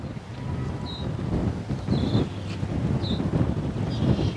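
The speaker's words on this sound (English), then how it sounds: "It's really windy out here today. The wind is blowing" Strong wind blowing outdoors on a goat farm, a continuous rough rumble and buffeting against the microphone with gusts swelling and easing, plus a few faint high chirps in the background.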